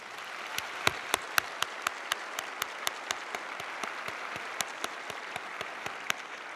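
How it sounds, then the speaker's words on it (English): Applause for the graduating class at a university law school spring commencement, fairly quiet and distant, a soft bed of clapping with crisp individual claps standing out at an irregular, steady pace. "Can we get a round of applause for this amazing class?"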